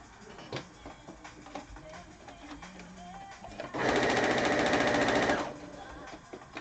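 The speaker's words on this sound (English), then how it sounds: "Let me sew one of these strips from the Japanese wood spirits." A sewing machine stitching fabric strips for a Japanese wood spirit project, one rapid, steady run lasting about a second and a half, close and loud over faint background noise.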